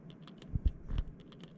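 Hat switch on a Logitech X-56 flight controller clicked several times, soft close ticks in a quick irregular cluster; no talking.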